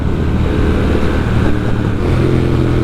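Triumph Speed Twin motorcycle engine running on the road, a loud steady low throbbing twin-cylinder rumble heard close, with no speech.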